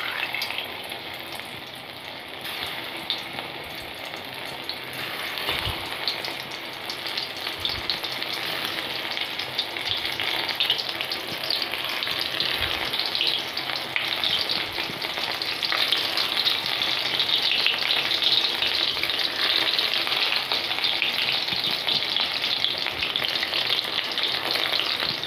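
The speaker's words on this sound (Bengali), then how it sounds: "আমি এর মধ্যে পনিরগুলোকে ফ্রাই করে নেব।" Paneer pieces frying in hot oil give a steady, loud, bubbling sizzle that holds for the whole stretch, with a few soft knocks underneath.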